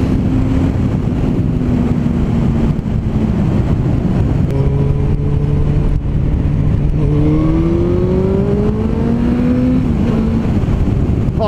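Suzuki GSX-R 1000 sport motorcycle engine droning steadily and rising in pitch as it accelerates through the gears, loud and close with buffeting wind noise throughout, no talking.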